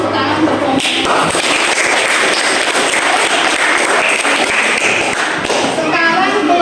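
A group in a teacher's coaching-supervision session applauds after a presentation: dense, steady clapping from many hands fills the whole stretch at close range, with faint voices mixed in.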